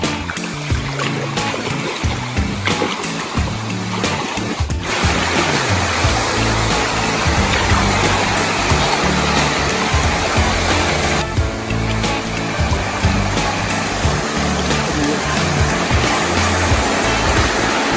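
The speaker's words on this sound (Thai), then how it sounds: "ตอนนี้ก็อยู่ที่น้ำตกแล้วนะครับ" Water rushes continuously at a small waterfall in a mixed garden and orchard in Thailand, a dense, steady roar of falling and flowing stream water heard up close with no one speaking.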